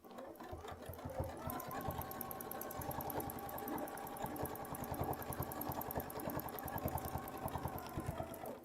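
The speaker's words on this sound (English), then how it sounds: "And now I'm ready to sew." A sewing machine runs steadily for the whole stretch while stitching a color-pencil quilt block along a marked line, its needle chattering in a fast, even rhythm close to the microphone.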